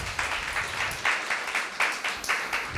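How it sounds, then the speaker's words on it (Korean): A church congregation claps together in a clap offering to the Lord during a sermon, a steady crowd patter with rhythmic swells that keep a loose beat throughout. "Give the Lord a clap offering."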